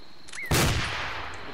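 A grenade launcher fired at a building in a military shooter game: a faint high tone and whistle, then one sharp loud blast followed by a broad rumbling tail that fades slowly.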